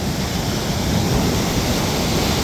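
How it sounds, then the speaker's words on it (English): Ocean waves breaking and colliding on a beach make a loud, continuous wash of broadband surf and spray noise, close to the microphone and steady throughout, with no voices. "One wave hit another wave."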